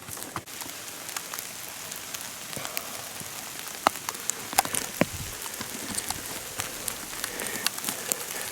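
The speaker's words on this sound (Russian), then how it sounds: "Слушайте, идет дождь." Rain falls in a forest, a constant patter of drops on leaves and ground with scattered sharper taps, close and steady throughout, with no voices.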